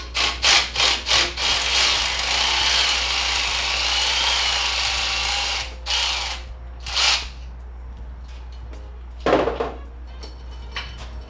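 Hand ratchet loosening bolts to free a valve spring on an LS-swapped Miata engine, a fast run of clicks, then a long buzzing ratcheting stretch, followed by scattered metallic knocks over a steady low hum.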